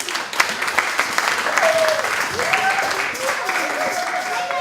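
A church congregation applauds at a year-end celebration ceremony, giving dense, sustained clapping throughout, with voices mixed underneath.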